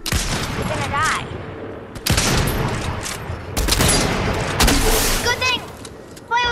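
Rapid gunfire crackles in Fortnite in several loud bursts separated by short gaps, with sharp close shots and people talking over the shooting.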